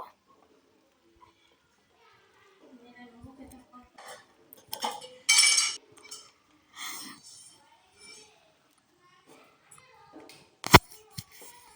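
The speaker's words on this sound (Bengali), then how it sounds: "চিকেনটা আর আলুটা খুব ভালোভাবে নেড়ে দেবো নাড়াচাড়া করে নেব" Chicken and potatoes being stirred in a cooking pot for a hand-mixed chicken dish, with scattered scraping and clinking of utensil against metal, a few louder knocks, amid quiet kitchen background and occasional faint voices.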